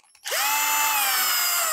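A power screwdriver spins up sharply and runs with a steady high whine while removing a screw from a DeLonghi coffee machine brew unit, loud and close, with no talk.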